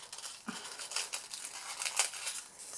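Scissors snip and trim a paper sentiment for a candle handbag gift, faint crisp cuts and paper rustles in an irregular rhythm, close and quiet.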